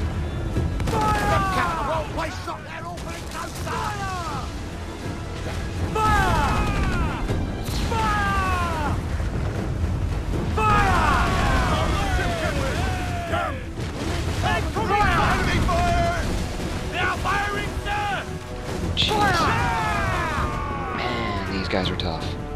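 Naval battle in Assassin's Creed IV: Black Flag, with repeated booming ship cannon volleys and crashing impacts rolling through the whole stretch, while someone shouts and talks over the din.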